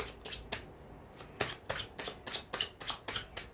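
Tarot cards being shuffled by hand: a quick run of crisp, papery riffles and slaps, close and fairly loud, repeating about ten times with no talking.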